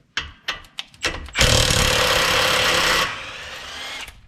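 Impact tool breaking loose the axle nut on a Honda Accord 2.4: a few short loud bursts, then a sustained harsh hammering rattle for about two seconds before spinning down, close and loud.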